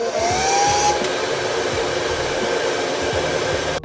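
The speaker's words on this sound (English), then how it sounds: "Use a hairdryer." A hair dryer blows steadily at close range on eyelashes during an at-home lash lift, a constant whooshing roar with a faint whine, cutting off at the very end.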